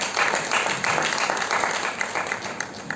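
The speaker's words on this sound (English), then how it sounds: "Please, can we give a round of applause again?" A round of applause for poets at an environmental roundtable, sustained crowd clapping that stays fairly even and loud throughout, with a faint steady hum beneath and no clear speech.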